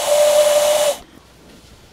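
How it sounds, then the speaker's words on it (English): Steady whistle-like hiss with one sustained tone holds loud for about a second, then cuts off abruptly into quiet background. It resembles a steam train whistle effect played during an online game session. "What do you think about my train whistle?"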